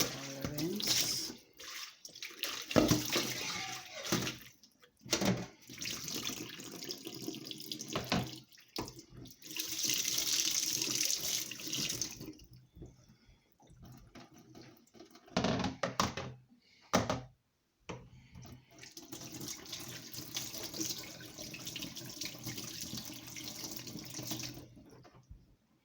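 Water running from a kitchen tap while a bowl is rinsed during juice making, a splashing flow that starts and stops several times with clunks in between and some talking.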